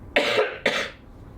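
A person coughs twice, close and forceful, each burst short and harsh, followed by quiet.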